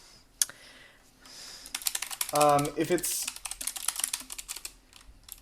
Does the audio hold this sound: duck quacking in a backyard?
no